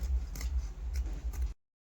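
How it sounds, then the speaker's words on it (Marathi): Scissors snip through the sleeves of a garment in a few quick, close cuts over a low background rumble, then the sound stops abruptly. "मम्मी आता हे बाह्या कापून घेते."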